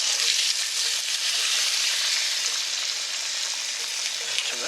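Lamb and spices sizzle and fry in oil in a hot pan, a continuous bright crackling hiss at a steady level with no talking.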